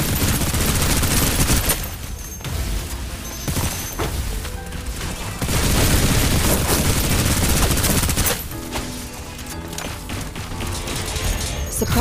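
Dense, sustained gunfire from a firefight in the video game Snowbreak: Containment Zone, with loud overlapping bursts running through the whole stretch, briefly thinning around the middle before surging again.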